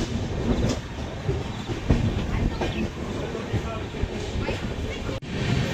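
A train rolls through forest on the Braganza Ghat line in monsoon, a steady loud rumble with faint wheel clatter filling the whole stretch, briefly dipping near the end.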